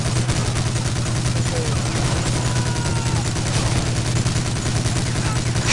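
Rifle gunfire in the World War II shooter Medal of Honor Allied Assault, a dense, continuous rattle of shots over a steady low hum, loud and unbroken.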